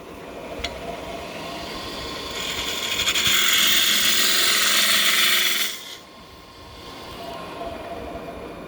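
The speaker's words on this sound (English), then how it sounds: "I'm going to switch to a half-inch, a Thompson half-inch gouge just to remove some material." A Thompson half-inch gouge cutting wood on a lathe while turning a box, a loud, steady rushing scrape for a few seconds before the cut lifts off, with the lathe humming underneath.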